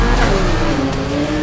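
A modified Honda Civic Type-R in Need for Speed revs and accelerates in a race against Lamborghinis, a loud continuous engine drone with rising tones and no voices.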